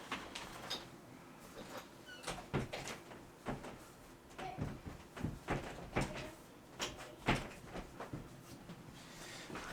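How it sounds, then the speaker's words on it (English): A door in a home opens and closes, giving a series of close knocks, clunks and rattles scattered through a quiet room with no talking. "Sorry, that was a door."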